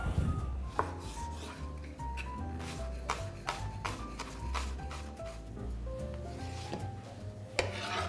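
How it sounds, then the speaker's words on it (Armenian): A knife thinly slices onion on a board, with steady, rapid cutting strokes repeating throughout, close and clear over soft background music. "և սողը կտրատում ենք շատ բարակ"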